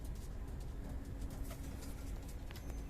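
Pigeons softly cooing in a loft in Vietnam, a low steady murmur with faint flutters and scratches in the background, no talking.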